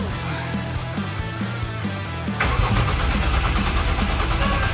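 A Toyota JZX100 that has sat unused for a long time cranks briefly, then fires and settles into a loud, steady idle with a rough, continuous engine rumble.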